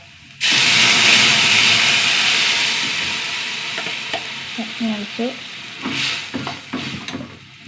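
Sliced onion rings frying in a pan, a sudden loud sizzle that slowly settles into a softer hiss, with stirring clinks and scrapes near the end.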